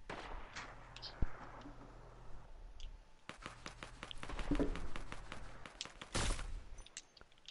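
Sniper rifle shots in an online shooter, several sharp isolated cracks spread out over a few seconds with footsteps and game ambience between them, fairly faint.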